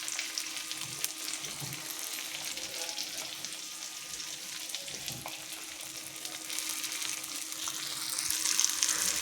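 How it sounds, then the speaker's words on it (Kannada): Fish coated in rava, a mackerel rava fry, cooks on a tava over a low flame, giving a steady, close sizzle and crackle of oil that runs unbroken and grows a little louder toward the end. "ಯಾಕಂದರೆ ಇದು ಲೋ ಫ್ಲೇಮಲ್ಲಿ ಈಗ ಬೇಯ್ತಾ ಇದೆ ನಮ್ಮ ಮೀನು."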